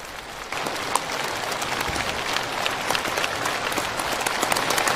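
Large crowd cheering hurrahs at a North Korean gathering, a dense, steady roar of voices and clapping that holds throughout at moderate level.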